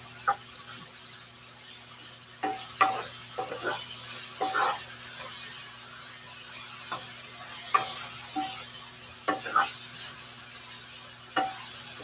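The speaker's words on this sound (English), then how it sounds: "You have to keep stirring because you do not want it to stick on the bottom." Mushrooms fry in a pot under a soft, steady sizzle, broken every second or two by clear scraping stirs and knocks against the pot, close up with no voices.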